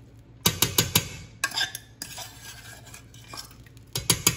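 Mashed sweet potato is stirred into a beef rib stew in a pot, with sharp metallic clinks and scrapes of the spoon in bursts and a soft bubbling simmer between, close by and without speech.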